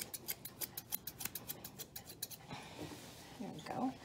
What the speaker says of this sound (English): I'm going to use my scissors and do some back combing.